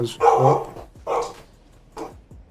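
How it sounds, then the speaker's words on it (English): A dog barks three times in a steady rhythm, loud and close, each bark bright and full with short pauses between. "You guys can hear a barking dog."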